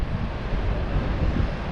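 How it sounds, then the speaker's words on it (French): Gusty wind blows outdoors in Edinburgh on a bright day and buffets the microphone with a loud, constant roar that rises and falls over a couple of seconds. "il y a du vent mais il fait beau"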